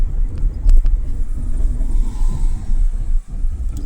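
A driving school car on a test route in Bila Tserkva, accelerating in third gear with a low, steady engine rumble from inside the cabin. A few thumps break the rumble, and it dips briefly near the end.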